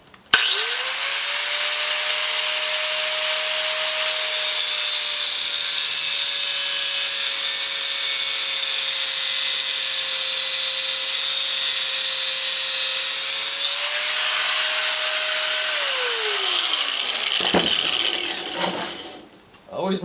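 A power tool, an angle grinder or small Dremel, cuts off the engine governor arm on a Coleman BT200X mini bike. It gives a loud, steady high-pitched whine for about seventeen seconds, then spins down and falls quiet.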